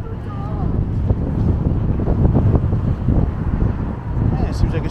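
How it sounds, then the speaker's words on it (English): Gusty wind buffets the microphone with a steady low rumble, loud and close, with faint traffic-like noise underneath, in downtown Toronto. "it seems like it's starting to get pretty windy"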